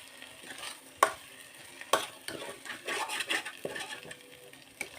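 Mutton brain (bheja fry) being stirred and fried in a pan: a soft sizzle broken by a few sharp spatula scrapes and knocks against the metal, with no voices.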